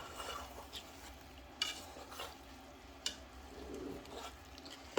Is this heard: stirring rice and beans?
yes